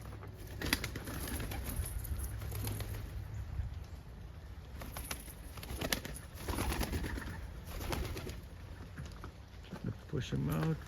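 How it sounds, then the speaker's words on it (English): Almond homer pigeon cocks cooing in a loft during light rain, soft low coos amid steady rainy hiss and rustling, faint and somewhat distant. "Homer cockbirds, almonds."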